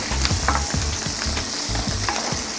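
Onions sauté in hot oil in a pan, a steady close sizzle broken by rhythmic scraping strokes of a utensil against the pan.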